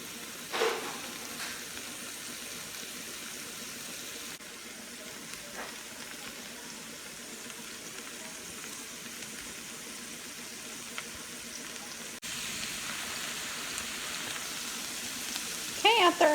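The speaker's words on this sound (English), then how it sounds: "I'm gonna let our butter melt." Butter melting in a pan on the stove while making spaghetti con rajas, a soft continuous sizzle and crackle that holds steady throughout and grows slightly louder near the end, with no talk over it.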